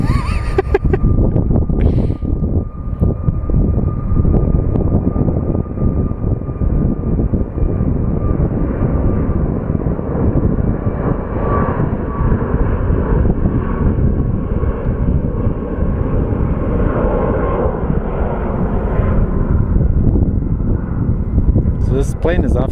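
Airplane engines roar steadily at Sky Harbor Airport for about twenty seconds, loud and close. People talk over the sound throughout.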